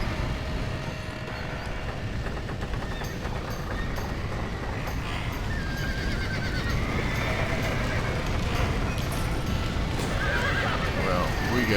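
Horses neigh and whinny while hooves clop in Red Dead Redemption, mixed into a dense, loud wash of game noise with shouting voices throughout.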